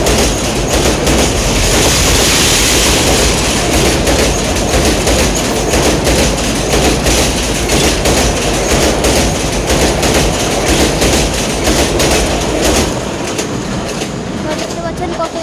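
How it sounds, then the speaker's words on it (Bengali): Burimari Express intercity train, hauled by a 3000 series locomotive with Chinese-built coaches, rushes past at speed over a bridge, a loud continuous roar of wheels and clattering carriages filling the whole stretch before easing slightly near the end. "দেখতে পাচ্ছেন কত স্পিডে গেল ট্রেনটি, বুড়িমারি এক্সপ্রেস।"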